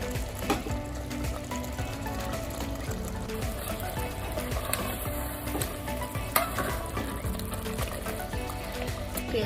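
Mutton and masala cook on a high flame in a pan, with a steady loud sizzle and frying crackle broken by occasional stirring scrapes and faint liquid trickles.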